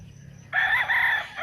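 A rooster crows among chickens on a farm, a loud, close, single strained call that begins abruptly after a quiet low hum and holds for about a second.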